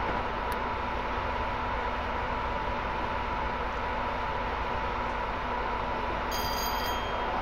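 A train rolling along the WCML North in a train simulator game: a steady, even rumble and hiss of wheels and cab noise with no breaks, plus a faint high electronic chime near the end.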